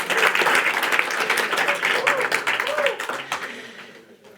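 A large audience claps steadily through the Climathon 2025 finale awards event, dense applause that fades toward the end, with some voices mixed in.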